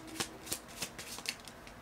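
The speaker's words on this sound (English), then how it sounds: "These cards are so temperamental. I have to shuffle them a certain way" A deck of oracle cards being shuffled by hand indoors, soft riffling swishes returning about every quarter second in a steady rhythm, close and fairly quiet, with no talking.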